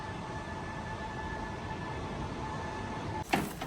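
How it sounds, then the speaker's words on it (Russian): Double-decker passenger train hauled by a DP-20 locomotive arriving at a platform, a low steady rumble with a faint tonal whine, ending in a sharp clank near the end. "Вот они, двухэтажные вагоны. И он пришел на 6 минут раньше."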